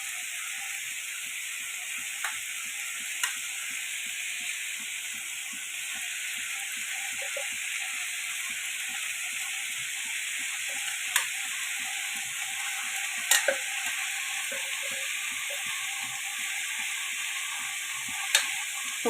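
Grated coconut sizzles steadily in a pan with vegetables, a soft continuous frying hiss broken by scattered clicks and scrapes of stirring, quiet and close with no talking.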